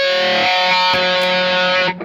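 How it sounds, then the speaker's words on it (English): An Audiostorm Grand Classic distortion pedal gives a dense, buzzing distorted tone with a hissy top end that holds steady, its texture shifting slightly as the range changes, before cutting off abruptly. "You can hear the hiss changing as the range changes."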